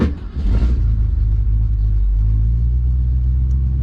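A 1967 Ford Mustang Convertible engine starts and settles into a deep, steady rumbling idle through its dual exhaust, loud and close, with no voices.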